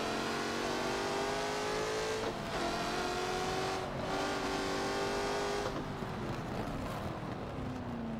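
A Jaguar F-Type in Forza 7 revs hard, its engine note rising and falling through gear changes while exhaust crackles pop under the steady loud drone of the car.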